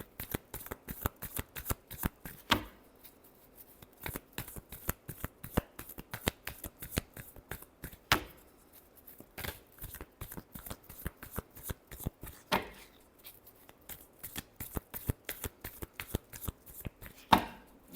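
Tarot cards are shuffled by hand in quick bursts of crisp riffling and slapping, with short pauses between rounds, close and fairly quiet.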